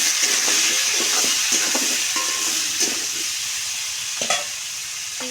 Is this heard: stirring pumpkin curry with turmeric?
yes